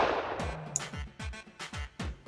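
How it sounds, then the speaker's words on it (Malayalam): A gun fired outdoors in a comedy scene, a burst of loud sharp cracks that settle into a rhythmic series of repeated bangs, with no talk. "വെടിപോകും."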